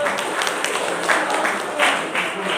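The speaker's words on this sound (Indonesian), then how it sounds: "Tepuk tangan dong, tepuk tangan." Scattered clapping from a crowd fills the room, steady and moderately loud, with voices murmuring underneath.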